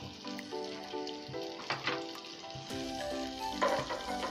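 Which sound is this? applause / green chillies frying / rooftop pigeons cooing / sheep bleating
green chillies frying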